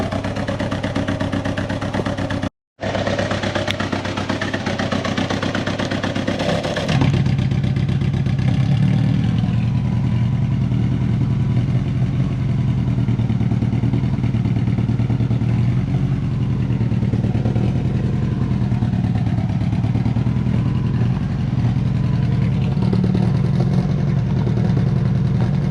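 A Subaru Forester with the muffler cutout open and a recently refitted V-band clamp rumbles at idle, then surges into loud, sustained revving with a deep droning exhaust note, after a short break near the start.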